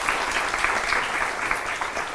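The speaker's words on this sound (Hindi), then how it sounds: "बहुत जोरदार तालियां विष्णु जैन जी के लिए भी।" Studio audience applause on a Hindi television debate show, a steady, continuous burst of many hands clapping at moderate loudness, without speech on top.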